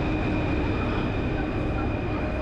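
Paris subway train running through an underground station, a steady loud rumble with a constant high whine, close by, with no distinct talking.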